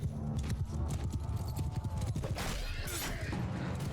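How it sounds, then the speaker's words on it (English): Horse archers galloping in Mount & Blade II: Bannerlord, with steady dense clip-clop of many hooves and an occasional whinny amid battle clatter, continuous and fairly close throughout. "Horse archers are coming up."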